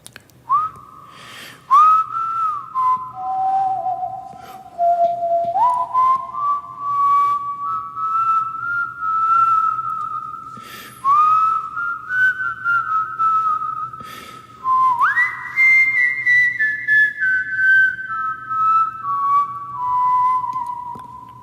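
A person whistles a song live on a radio show with an echo effect added, a clear, sustained solo melody that rises and falls in long phrases with brief breaks between them.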